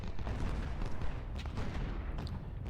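Artillery fire across a Civil War battlefield at Malvern Hill in Ultimate General: Civil War, a rumbling barrage of muffled booms and crackling volleys blending into a continuous low roar.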